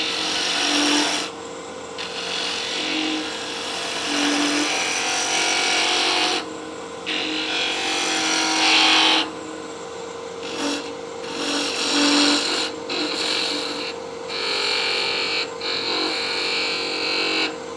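Salvaged wood spins on a lathe as a skew chisel shaves material to shape a tool handle, giving a close, loud rasping scrape in repeated passes over a steady motor hum.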